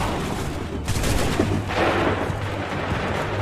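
A volley of soldiers' musket fire in Assassin's Creed III, loud and dense, rolling out as a crackling wall of shots over continuous battlefield noise with a second surge midway.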